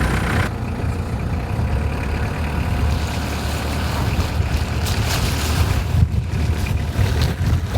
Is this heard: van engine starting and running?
yes